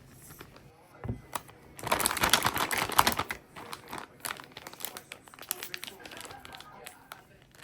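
A plastic bag crinkles and rustles while being handled for piping icing onto chocolate cupcakes, bursts of crackling close up with quieter handling noises between.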